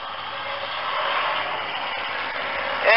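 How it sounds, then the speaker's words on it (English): Small outboard motorboats racing drone at a distance, a steady buzzing engine noise that swells slightly, with faint voices near the end. "Very good for these little outboards"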